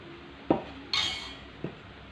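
A utensil clinks against a bowl of thin donut batter three times at uneven intervals, with a brighter scraping clink in the middle, against quiet background.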